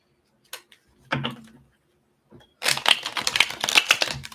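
A few soft taps and card handling, then a rapid riffle shuffle of a deck, crisp and close, with no voices.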